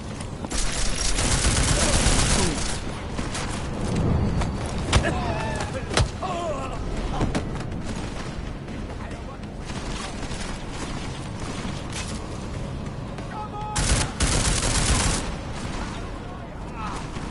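Gunfire fills a session of the video game Deus Ex: Mankind Divided. Dense, loud bursts of shots and mechanical clatter run almost nonstop, with game voices mixed in.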